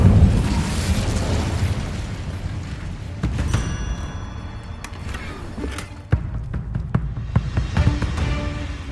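A series of fiery spell blasts from the Incendio fire spell in Hogwarts Legacy, booming bursts and sharp thuds striking repeatedly over a dense, rumbling game soundscape.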